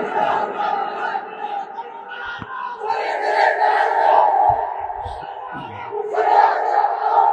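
A large crowd at an Islamic sermon shouts the takbir in unison, a loud, sustained roar of many voices that swells again near the end.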